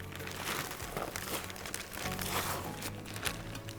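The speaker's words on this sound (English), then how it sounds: "So right now I'm going to cut a bag of soil" Crinkling and crunching of a plastic bag of potting soil being cut open and handled for planting succulent container gardens, close and continuous with irregular rustles and no talking.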